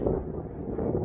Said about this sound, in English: sorry for the wind. It's pretty windy.